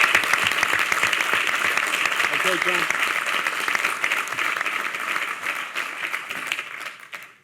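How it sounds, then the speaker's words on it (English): An audience at a New York wine, beer, spirits and cider summit gives a round of applause, steady dense clapping that gradually thins and fades, with a brief spoken remark during it. "another round of applause"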